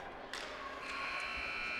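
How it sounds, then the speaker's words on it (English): Arena buzzer sounding at the end of the first period of a girls' varsity high school ice hockey game, a sustained tone starting abruptly and holding steady over faint crowd and rink ambience. "that buzzer will mark the end of the first period"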